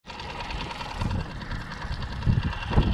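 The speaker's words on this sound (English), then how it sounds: "All right, that's how it idles, so that sounds really good." A small outboard motor on a Precision 18 sailboat idles just after starting, a steady low putter with a faint higher whine, fairly close and even, rising slightly near the end.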